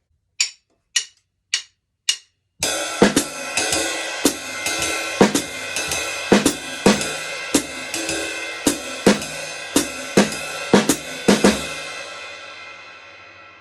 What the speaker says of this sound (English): The drum part by itself sounds like this.